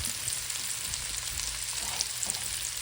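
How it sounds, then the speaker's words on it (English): Cabbage frying in oil and butter in a skillet, a close, continuous crackling sizzle with occasional louder pops and soft stirring scrapes, with no voices over it. "But I like to fry my cabbages."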